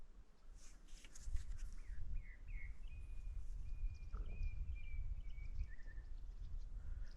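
Faint bird chirps and a thin, drawn-out whistle float above a low, rustling outdoor background.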